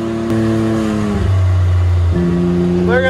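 A car drives past close by, its engine tone rising and then dropping sharply as it passes, loud and brief, with no talking.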